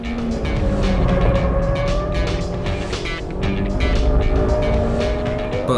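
Loud Honda Civic Type R engine roaring at high revs in third gear, around 6,000 to 6,500 rpm, with a continuous, rising whine, no talk, close and sustained throughout.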